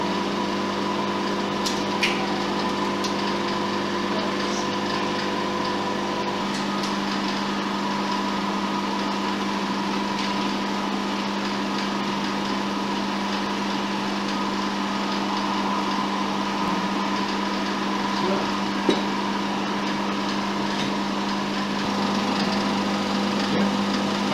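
An FP20 cinema film projector runs steadily in a projection booth at the Cinerama in Amsterdam, giving a constant mechanical hum and whir with a faint rhythmic clatter throughout, with no talk.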